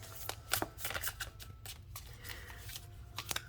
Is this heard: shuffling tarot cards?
yes